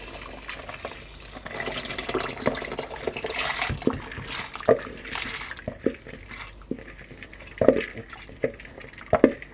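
Peas and water poured into a pot of potatoes on the stove, a soft liquid splash and slosh with a few sharp clinks of utensils against the pot, close and moderately quiet.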